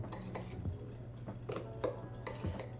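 Chopped red bell pepper mixed into a vegan crab cake mixture in a bowl, with a few clinking utensil scrapes and knocks against the dish, close and moderately loud, without talk.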